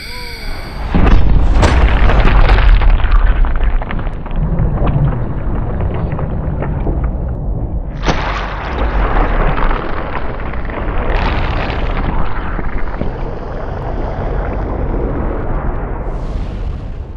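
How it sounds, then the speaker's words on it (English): A supersonic Nerf dart blaster fires at a plastic zombie dummy head, giving a loud close burst near the start, then a long stretch of clatter and debris noise with people talking and reacting throughout. "I'm gonna shoot the dummy head with it"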